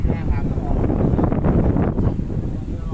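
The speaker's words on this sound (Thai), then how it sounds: "ลมแรงครับ" Strong wind sweeps across an open rice field, buffeting the microphone with a loud, continuous roar that swells and eases slightly without a break.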